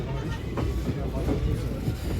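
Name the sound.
Sealdah-Jangipur Express train running on rails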